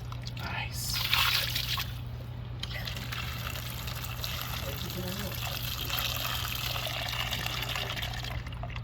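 Water runs and pours into a container outdoors during preparation of a Trinidadian fish broth, a steady wash of trickling and splashing with faint talk in the background.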